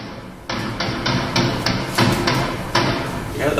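Balloons bursting one after another in slow motion, struck by a silent laser saber; a series of sharp, bright pops arrives at uneven intervals, each with a dense crackling spread that stays loud and close.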